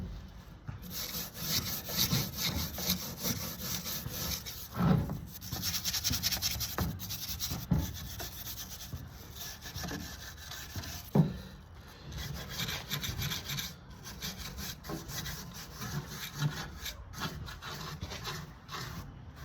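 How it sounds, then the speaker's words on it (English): Driftwood gathered from a beach is sanded by hand with sandpaper, giving a steady, close rasping rub with repeated strokes and a few sharper scrapes, and no one speaking. "we're gonna go to a finer grade on the sandpaper"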